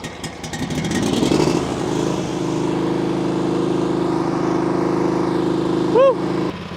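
A small pull-start engine catches and settles into a steady idle hum after some initial sputtering, running continuously at close range while people talk nearby.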